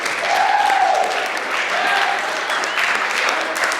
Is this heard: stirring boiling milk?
no